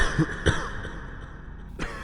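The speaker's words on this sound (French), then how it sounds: "Quand le fumeur tousse," A smoker gives a couple of short, rough coughs close by, then a pause before another brief throaty burst.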